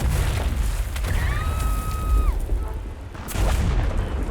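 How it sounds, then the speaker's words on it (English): A cannonball fires in World of Warcraft with a deep booming blast and rumbling low-end roar, alongside a gliding tonal game effect and a second thump near the end. "Can I fire this cannonball?"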